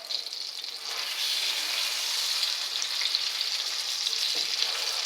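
Leg of spring lamb searing in a hot pan, a steady loud sizzle that builds after the first second and holds evenly, with no talking over it.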